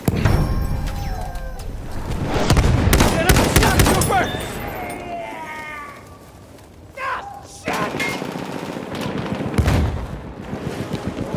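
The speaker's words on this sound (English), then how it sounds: "Enemy machine gun!" Enemy machine gun in Battlefield 1 on the Amiens map rattles in rapid bursts amid other gunfire and battle noise, with shouted voices over the din.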